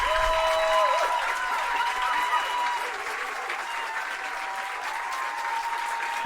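A live audience claps and cheers at an NPR Tiny Desk concert, a dense sustained wash of applause that stays loud and steady throughout, with faint tonal ringing underneath.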